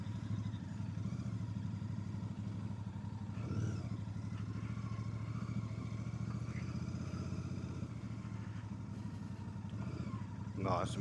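A motorcycle rides across grass near a farmhouse at night, its engine droning steadily with clattering bumps as the wheels slip, accompanied by faint wind noise and brief voices.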